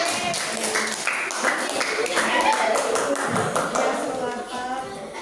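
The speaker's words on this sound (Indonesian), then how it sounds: "Tepuk tangan." Students clap in a classroom after a group presentation, a loose patter of hands at moderate distance that fades toward the end, with some voices underneath.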